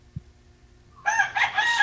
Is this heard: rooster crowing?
yes